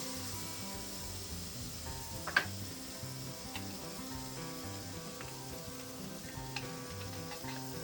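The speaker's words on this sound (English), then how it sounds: "we'll set our steaks down to get a nice sear on it" Ribeye steaks searing on a hot grill give a steady, quiet sizzle throughout, with one sharp tick partway through and a few faint clicks; no talking.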